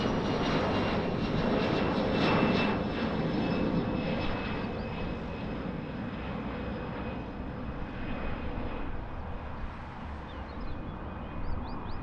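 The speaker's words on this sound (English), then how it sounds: "So a little private jet" A small NetJets private jet at Lisbon Airport roars steadily and loudly throughout, its broad engine noise holding close and constant for the whole stretch with no talking.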